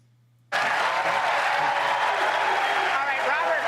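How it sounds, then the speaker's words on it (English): Loud, sustained applause from a large town hall audience, starting abruptly after a brief silence and continuing at full strength to the end. "Oh, you don't need to applaud people."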